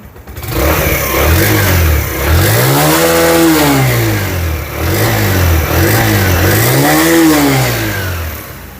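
Suzuki GSX-R 125 motorcycle engine revving up and down repeatedly, loud and close, with several rising and falling throttle sweeps and no talking.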